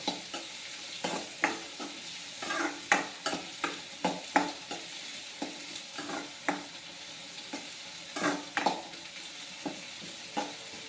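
Onions sizzle in a pan for a vegetarian egg curry and are stirred with a utensil. Close scrapes and clacks repeat at an uneven pace over a soft, steady frying hiss, with no talking.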